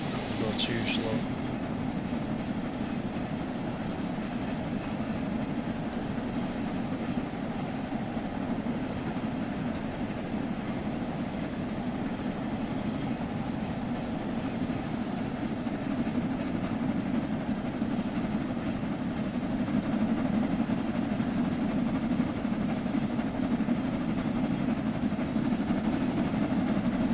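A steam train rolls along the track in Train Sim World 3, a continuous steady rumble of wheels and carriages. The sound stays mid-level and even throughout, with only a brief brighter burst at the very start.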